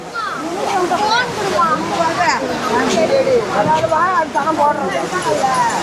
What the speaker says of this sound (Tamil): பாருங்கள் தண்ணி எவ்வளோ அழகாக கொட்டிகிட்ருக்கு